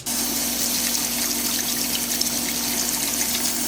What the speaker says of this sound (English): I put rocks here because it kind of looks like a waterfall when you wash your hands.